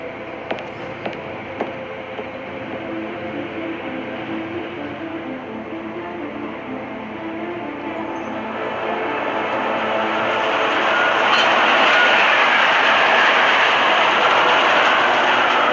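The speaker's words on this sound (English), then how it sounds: "Just getting off the train now." A train rolling on rails in the game Deus Ex Mankind Divided, a steady low rumble and hum with a few faint clicks early on, swelling louder and brighter partway through as the ride continues.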